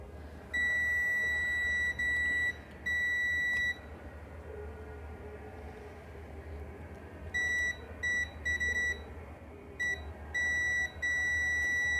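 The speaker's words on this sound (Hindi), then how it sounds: "यहाँ पर भी कैपेसिटर बीप की आवाज़ कर रहे हैं, यहाँ पर भी कर रहे हैं और ये भी कर रहे हैं।" Repeated electronic beeps from capacitors on a 17C63 car ECU circuit board under test for a power supply fault: clear, steady high tones in short and long bursts with pauses between, over a low background hum.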